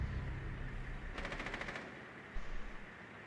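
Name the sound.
gunshots in a video game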